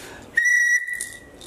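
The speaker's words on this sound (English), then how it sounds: "So this is a whistle. Blue color whistle." A blue toy whistle gives one shrill, steady blast lasting about half a second, loud and close, with no one speaking over it.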